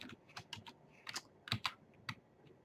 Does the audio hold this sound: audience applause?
no